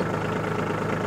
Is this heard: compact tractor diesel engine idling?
yes